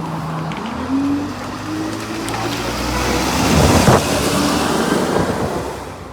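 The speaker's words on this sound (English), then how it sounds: "here is Uxbridge Bus Preservation Group's ADL Enviro 200 arriving in on the 25 service to Godstone via Crowhurst" An ADL Enviro 200 bus pulls in on a rural route, its diesel engine droning and rising in pitch as it nears, growing louder then easing off slightly at the end.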